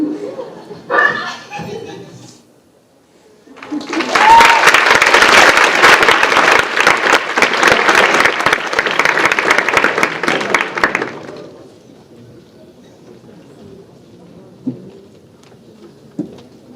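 An audience at a school writers' week event breaks into loud, sustained applause lasting about seven seconds, preceded by a speaker's voice and fading into quiet room murmur afterward.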